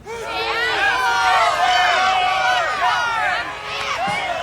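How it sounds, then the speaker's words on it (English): A rally crowd in Yelm shouts answers about Jay Inslee: a continuous babble of many overlapping voices calling out at once, loud and sustained, with a few distinct shouts rising above the hubbub. "It's a salty crowd out there."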